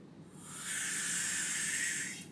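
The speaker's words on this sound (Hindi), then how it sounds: "अब बस बॉल को फनल में डालेंगे और जोर से फूंक" Hard, steady breath blown through a pipe into a funnel holding a ball, a continuous airy hiss that swells and holds for about two seconds, close and loud.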